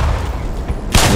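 A loud blast bursts in near the end of a short burst of gunfire as mines are shot and detonate in Black Mesa, the Half-Life remake, breaking over a low rumbling game backdrop.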